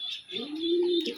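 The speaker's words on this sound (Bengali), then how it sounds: "আমার অনেক পছন্দের কবুতর এটা।" A pet pigeon gives a single close, soft, throaty coo that holds a steady low pitch for about a second, with no speech.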